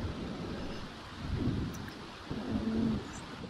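Rain and low thunder rumbles in The Sims 4 Seasons, a faint steady patter with two soft rolling swells, heard alone.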